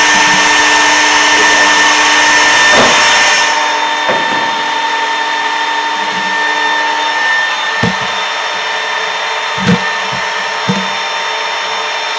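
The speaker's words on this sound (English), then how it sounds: "that C5 spindle warm-up routine" A ShopBot CNC spindle runs its C5 warm-up routine, a loud steady high-pitched whine that holds on its own, easing down partway through, with a few faint clicks and knocks behind it.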